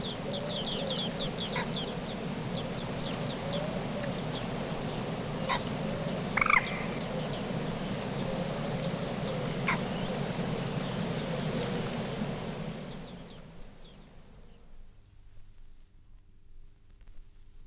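Bearded tit (Panurus biarmicus) giving repeated short, high pinging calls, scattered and fairly near, over a steady rushing background of wind or water in reeds that fades away toward the end.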